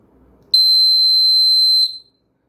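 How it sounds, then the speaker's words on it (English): A single loud, piercing electronic buzzer tone holds steady for about a second and a half, then cuts off abruptly into silence. "I tested this buzzer. It has a really loud sound."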